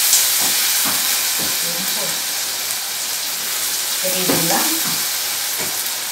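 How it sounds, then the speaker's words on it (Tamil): Mint and curry leaves sizzle in hot oil while being sautéed for a chicken salna, a steady close hiss of frying with occasional stirring scrapes, a voice briefly speaking over it. "நல்லா எண்ணெயில் நல்லா வதங்கிடுங்க"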